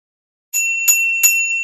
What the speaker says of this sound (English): Let me just give you guys another little bike bell ring.